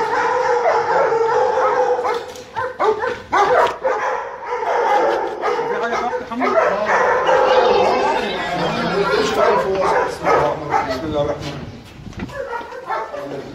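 Several dogs at a dog farm bark, yip and howl throughout, mixed with people chattering nearby in a busy, noisy setting.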